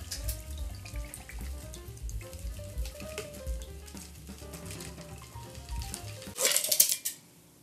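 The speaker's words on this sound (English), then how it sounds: "grab our Hawthorn strainer, cap that up, and just do a pour on that over our fresh ice" A drink is strained through a Hawthorne strainer and poured over fresh ice into a pint glass while mixing mocktails, with a short splashing, clattering pour near the end of a busy kitchen-like background.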